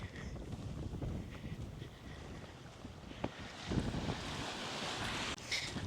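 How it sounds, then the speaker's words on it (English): Steady wind rushes and rumbles against the microphone outdoors at Point Billie near the sea, with a constant broad hiss and occasional louder gusts. "it is quite windy out there"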